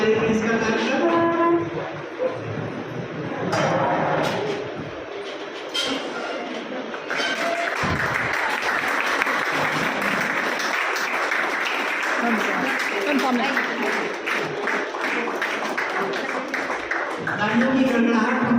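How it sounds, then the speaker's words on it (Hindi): A crowd at a Teachers' Day function bursts into sustained applause to welcome the principal, the clapping loud and continuous, with voices heard over it. "जोरदार तालियों के साथ में स्वागत करेंगे"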